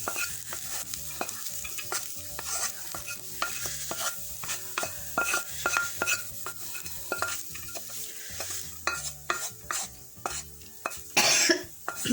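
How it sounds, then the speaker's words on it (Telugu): A tikki mixture of carrot, green chilli and onion pieces is tipped into a hot pan and stirred, giving light sizzling under a steady series of scraping, clinking spoon strokes against the metal, close by and without talk. "ఈ మిశ్రమం అంతా దీనిలో పోసేసుకుందాం"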